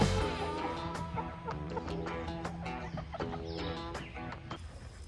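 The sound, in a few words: chicken clucking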